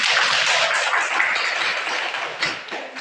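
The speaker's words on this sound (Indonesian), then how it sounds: "coba semua berikan tepuk tangan untuk pembelajaran kita hari ini" A classroom of schoolchildren claps hands in a continuous, dense burst of applause, close and loud, with uneven flurries but no break.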